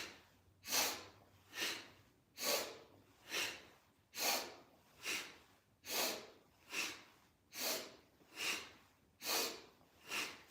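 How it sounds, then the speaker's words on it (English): Slow, steady breathing in and out through the nose, about a dozen soft rushing breaths at an even rhythm, close and quiet with no talking. "In the nose and out the nose."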